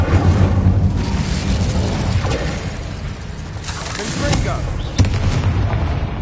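An Incendio fire spell explodes in Hogwarts Legacy, bursts of fiery booms and crackling over busy battle noise, with a voice briefly heard.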